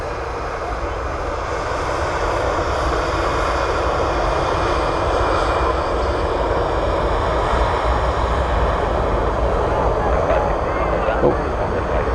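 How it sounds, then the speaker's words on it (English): A Jet2 airliner taxis at Manchester Airport, its engines giving a steady, loud broadband roar and whine that holds constant throughout without a break. "taxiing back to the stand is the Jet2"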